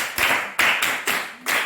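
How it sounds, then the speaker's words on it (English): Five or six hand claps in quick succession from students in a classroom, close and fairly loud, with brief pauses between bursts and no talking. "Clap for him."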